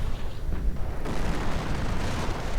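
A strafing aircraft in a strategy video game is shot down by flak, heard as a dense rumbling burst of explosions and booming impacts with a heavy low-end roar, loud and sustained throughout.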